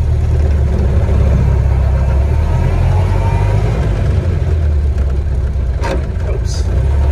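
A 1931 Ford Model A engine runs on a cold day while the gears are shifted, a loud, steady low drone throughout with a brief clunk near the end.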